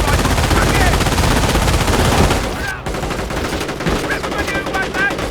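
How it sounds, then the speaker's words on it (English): In the game Company of Heroes, a half-track's machine gun fires loud, rapid bursts up close, mixed with other gunfire and battle noise, and stays dense for several seconds with a brief dip midway. "they add additional firepower to the half-track's own machine gun"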